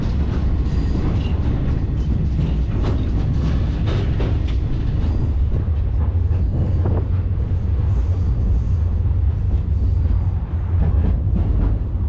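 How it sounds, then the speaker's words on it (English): A very heavy train in Morocco, pulled by a single locomotive, climbs slowly uphill. A steady, loud rumble of wheels and carriages mixes with faint rhythmic clacking and wind buffeting close to the microphone. "We're going uphill right now. That's why we're going so slow. It's a very heavy train"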